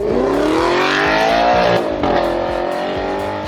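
A loud, throaty Audi R8 V8 engine revs hard, pitch rising and falling with a brief dip midway, close and sustained with no talking.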